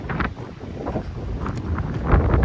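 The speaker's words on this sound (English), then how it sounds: "Getting a little windy on me here today" Wind buffets a microphone in steady, rumbling gusts, a low roaring rush with no voices.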